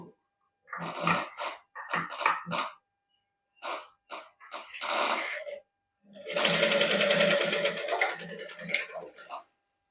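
A sewing machine stitches a lining onto a sleeve in short bursts of rapid close-up whirring, followed by a longer continuous run, with someone speaking between the bursts.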